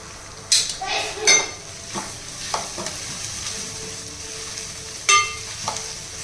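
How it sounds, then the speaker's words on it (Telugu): Ginger-garlic paste frying in a pan with oil and fried mint, a soft steady sizzle broken by a few sharp clinks and scrapes of a spoon stirring against the pan. "సో అల్లం పేస్ట్ వేస్తున్నాను, అల్లం వెల్లుల్లి పేస్ట్"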